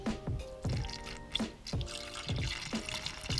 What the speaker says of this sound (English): Now it's time to put some new coolant in.